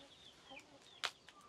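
Farmyard chickens clucking at a rural smallholding where they are fed leftover food, short faint clucks scattered over quiet background with one sharper, louder cluck near the middle.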